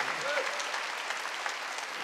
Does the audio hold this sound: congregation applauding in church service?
yes